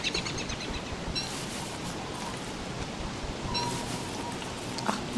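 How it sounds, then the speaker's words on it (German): Heavy rain falls in the Don't Starve video game as a dense, constant hiss of downpour, steady and close throughout, with faint higher chirps and clicks now and then. "Es regnet ganz schön dolle, oder?"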